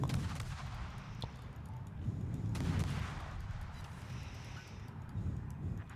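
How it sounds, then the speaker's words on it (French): Repeated cannon blasts from the strategy video game World of Wars, heavy low booms rolling into one another at a steady, dense pace with no talk over them. "Et là, on va le harceler à coups de canon."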